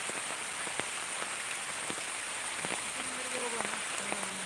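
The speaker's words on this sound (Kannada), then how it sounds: "4 ಸಲ ಈ ರೀತಿಯ ಮಳೆ ಬರ್ತದಲ್ಲ?" Heavy monsoon rain falls without pause, a steady close wash of drops on surfaces near an areca plantation. A few faint tonal sounds rise in the background.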